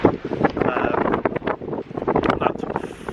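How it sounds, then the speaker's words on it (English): Strong wind buffets the microphone in loud, rough gusts, with a voice partly buried under the rumble. "It's still windy as hell."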